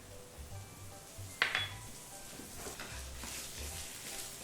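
Faint sizzling of curry leaves dropped into hot tempering oil with ginger and green chillies, with a soft metallic clink from a pan early on; quiet and close, with no talking.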